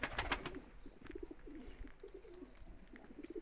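Tumbler pigeons coo softly inside a coop, a few low repeated coos with faint rustling and a brief flutter of wings, no talking.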